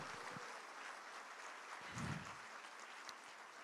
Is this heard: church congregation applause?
yes